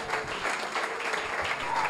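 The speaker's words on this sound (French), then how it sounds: "Je peux entendre vos amens et vos acclamations" A church congregation at a Christian conference claps and cheers in a steady, moderately loud burst of applause, with no talk over it.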